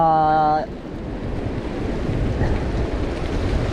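Waves wash steadily at a river mouth with a broad, continuous roar and wind buffeting the microphone. A brief tonal sound opens the clip.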